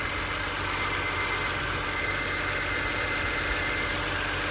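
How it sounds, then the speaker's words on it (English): A 2006 BMW 325i idles steadily after Vanos solenoid, crankcase ventilation and oil cooler gasket repairs, an even, continuous engine hum heard up close with no talking. "that idle definitely smoothed out"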